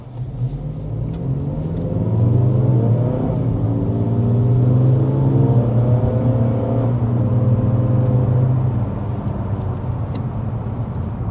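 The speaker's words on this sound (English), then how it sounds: "Now accelerating to this red light, like Mason was kind of leading us into" A 2025 Mazda 3 Select Sport with a 6-speed transmission accelerates on the road, heard from inside. Its engine rumble climbs steadily in pitch through the gears, then eases off into a lower hum, with no talk over it.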